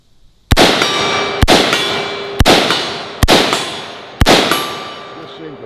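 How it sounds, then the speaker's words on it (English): Bullets strike a steel gong target five times in a steady series, each loud metallic clang ringing out and decaying before the next hit, with no talking. "we might as well wrap up on the gong"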